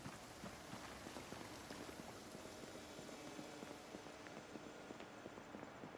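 Rain in the video game Project Zomboid falls as a steady, even hiss of drops that stays constant and fairly faint throughout.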